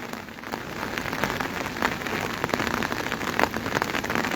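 Heavy monsoon rain pours steadily in Shimla, a dense, loud, even hiss of drops striking surfaces with no let-up and no voices.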